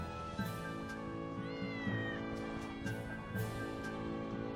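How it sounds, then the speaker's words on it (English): Cats meow repeatedly in the Tales of Berseria video game, several clear mews over steady background music with no talking. "I also see a bunch of kitty cats."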